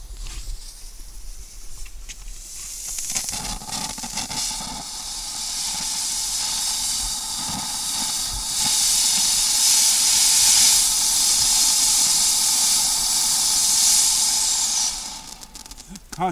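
A firework candle set off at a birthday fireworks show in 2020 gives a long, loud, steady hissing spray that builds and holds before cutting off near the end, with no talking over it.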